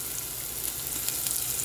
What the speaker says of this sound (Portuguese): Vou acrescentar dois dentinhos de alho picados. Vou dar uma refogadinha.